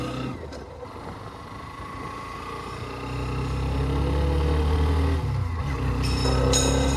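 Hero Xtreme 125R motorcycle exhaust while riding, a steady low engine drone that rises and grows louder partway through as the bike accelerates, close and continuous.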